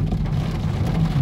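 Heavy rain pours down during a thunderstorm over flooded roads in Doetinchem, a dense, steady hiss of drops drumming on the surface with a low rumble underneath.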